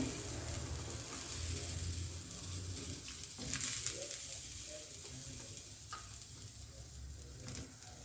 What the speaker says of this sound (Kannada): ನೆಕ್ಸ್ಟ್ ನೋಡಿ ತೆಂಗಿನ ತುರಿ ಹಾಕ್ತಾ ಇದ್ದೀನಿ